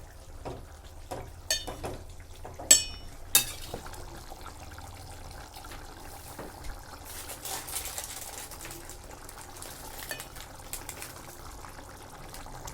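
Curry being stirred in a pan on the stove, with a few sharp clinks of a spoon against metal early on, then soft scraping and a faint sizzle, all close and quiet with no talk.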